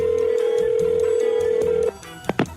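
A telephone rings on a call with a steady, loud electronic tone that cuts off abruptly, followed by a couple of sharp clicks as the line is picked up.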